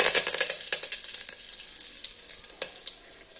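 Cumin seeds and curry leaves sizzling and crackling in hot oil for a menthya palav: loud, close spattering with sharp pops, strongest at first and easing to a softer, steady fry.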